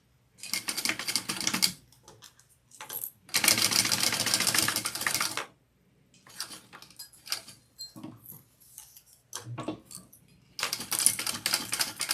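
Sewing machine top stitching nylon webbing on a mini backpack, running in several bursts of rapid stitching separated by pauses, with faint handling noises between runs, close and fairly loud.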